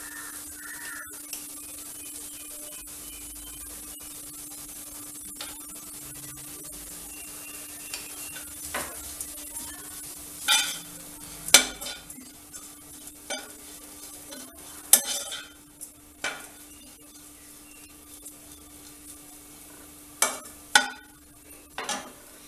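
Wheat rava upma being stirred in a pan after salt goes in, a steady low sizzle under repeated scraping and clinking strokes of a spoon against the pan, louder scrapes clustering toward the end.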